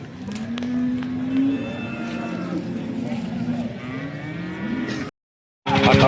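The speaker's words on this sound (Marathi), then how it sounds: "आता आपण ही गाय कव्हर करतोय." A cow moos in a long, drawn-out bellow at the Sangola cattle market, loud and near over a busy crowd murmur, cut short by a brief silence before the noise returns.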